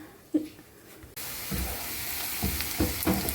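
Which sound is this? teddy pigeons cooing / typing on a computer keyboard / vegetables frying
vegetables frying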